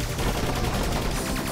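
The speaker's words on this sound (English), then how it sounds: "the wave gun actually goes through their shields. So it's quite a dangerous weapon up close." Wave gun firing in the space shooter Fission Superstar X, a dense, loud, continuous stream of rapid zapping shots with no pause and no speech.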